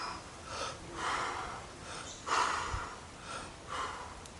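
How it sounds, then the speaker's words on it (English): Recovery breathing after a freediving lung stretch: a series of close, airy inhales and exhales with a few sharper, gasping breaths, heard alone at moderate loudness. "recovery breathing"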